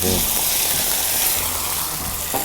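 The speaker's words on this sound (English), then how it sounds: "Ain't nothing like an egg on the Blackstone." An egg frying on a hot Blackstone griddle gives off a loud, continuous close-up sizzle that fills the whole moment without a break.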